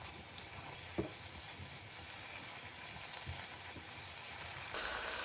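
A pan sauce of brandy and Worcester sauce simmers steadily, giving an even close sizzle and hiss with a couple of brief clinks of a utensil, and the fizz brightens slightly near the end.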